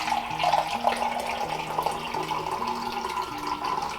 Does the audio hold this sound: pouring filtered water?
yes